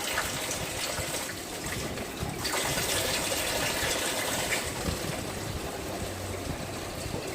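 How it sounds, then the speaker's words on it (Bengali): Tap water gushes steadily into a steel jug and steel basin, a continuous close splashing rush with no pauses. "স্টিলের জগটাও ভর্তি করলাম সব জল স্টিলের গামলা স্টিলের সমস্ত কিছু ভর্তি করে রেখে দিলাম"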